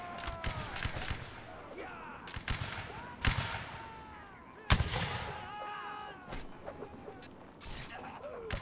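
Scattered musket volleys crack across a Napoleonic Wars line battle, sharp single reports and a few louder close shots spread irregularly over a noisy field, with voices and clatter in the background.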